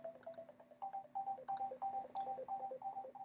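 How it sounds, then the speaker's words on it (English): A phone ringtone made of repeated bright electronic chirps, arranged like a tiny voice chanting 'answer the phone' over and over, faint and steady for a few seconds. "Do you hear the little creature saying, answer the phone, answer the phone, answer?"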